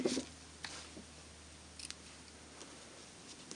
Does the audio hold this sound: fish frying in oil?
no